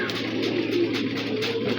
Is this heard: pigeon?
yes